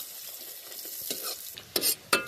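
Onions stirred and fried in hot oil for a home-style egg curry, a steady sizzle with scraping stir strokes, two sharp louder scrapes near the end, no talking.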